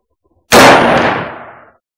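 A single sharp, loud, close shot from an I.O. AKM-47 M214 rifle at a shooting range, with a ringing tail that fades over about a second.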